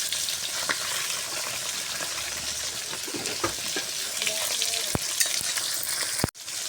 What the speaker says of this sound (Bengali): আমি মাছগুলো হালকা করে ভেজে নিব